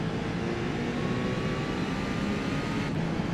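A race car engine in Forza Motorsport at the Spa circuit drones steadily and loudly throughout, a continuous broadband roar with a sustained whine and no voices.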